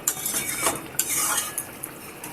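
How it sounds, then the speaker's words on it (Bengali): A utensil clinks and scrapes against a pot while boiled potatoes are cut in a Bengali bata fish chilli curry. The knocks are close and uneven, with no voices. "আমি দেখিয়ে দিচ্ছি আলুগুলো একটু কেটে।"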